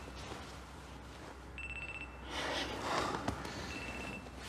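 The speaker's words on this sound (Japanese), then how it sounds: "怒った所長から飯塚君の携帯に連絡が入ると" A mobile phone rings with an incoming call, giving short repeated electronic tones amid rustling and movement noise, fairly faint and mid-distance.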